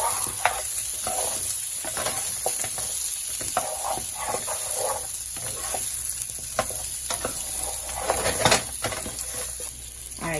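Meatballs frying on medium-high heat in a deep pan, a steady crackling sizzle with occasional spatters and utensil clinks, close and continuous with no talking.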